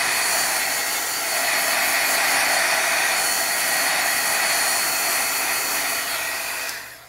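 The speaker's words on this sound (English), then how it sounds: "heat gun, warm it up just a bit, just till you see the shine" A heat gun warms a beeswax wall hanging with a steady, loud, close whooshing blow of hot air that holds constant for several seconds before cutting off at the end.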